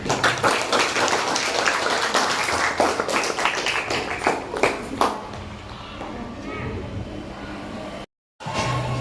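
Classroom students clap together in response to a teacher's call, a dense burst of many hands for about five seconds before tapering into scattered claps and room noise, with speech mixed in.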